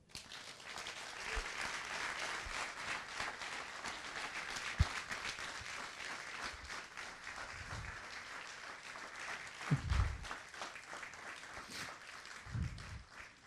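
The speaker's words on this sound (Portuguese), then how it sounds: "Pode dar um aplauso ao Senhor?" A church congregation claps and applauds steadily for over ten seconds, a dense roomful of hands at moderate loudness with a few faint voices mixed in.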